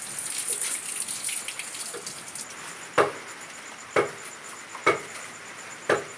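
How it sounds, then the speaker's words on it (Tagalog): Steady rain falls at a rural backyard beside a pig pen, a constant hiss broken by four loud, close drips or splashes spaced about a second apart in the second half. "umuulan ngayon."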